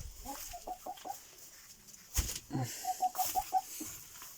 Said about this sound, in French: Le petit coq là-bas, il est bien beau.